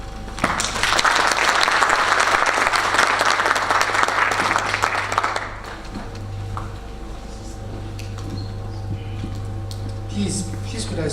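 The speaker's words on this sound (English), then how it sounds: "Please could I solicit another round of applause?" An audience claps loudly and steadily for several seconds after a presentation, then the applause fades into quieter room noise with a few scattered claps and faint murmurs.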